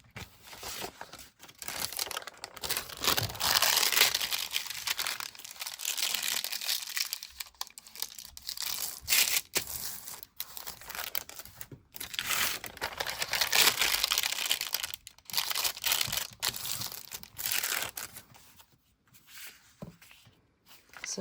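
A paper page from an old book being folded and creased by hand, a loud crinkling and crackling that comes in bursts with short pauses, close up and without voices, for about twenty seconds.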